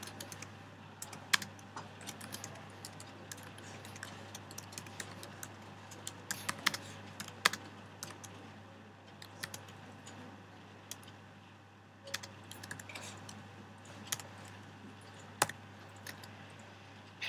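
Quiet typing on a computer keyboard while coding: irregular bursts of light clicks with a few sharper keystrokes, over a low steady hum.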